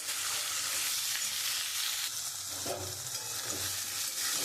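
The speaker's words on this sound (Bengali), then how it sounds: "আমি একটুখানি লাল লাল করে ভেজে নিয়েছি" Radish pieces fry in oil until reddish while being stirred, a dense, loud, steady sizzle with a few low scraping movements of the spoon midway.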